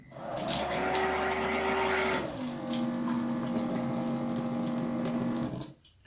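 Steady rush of water pouring from a faucet while flushing a water tank line during sanitizing, continuous and fairly loud, with a slight change in pitch partway through before it cuts off.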